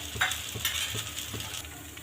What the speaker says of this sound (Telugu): కొద్దిగా కాలిన తర్వాత అయితే ఆయిల్ అయితే వేసేసుకుంటున్నానండి నేను